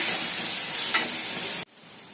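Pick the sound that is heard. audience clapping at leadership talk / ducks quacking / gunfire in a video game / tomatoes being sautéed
tomatoes being sautéed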